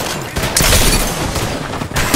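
Loud, close bursts of gunfire from an Apex Legends match, with a sustained volley dense enough to blur the individual shots together, followed by a few sharper reports.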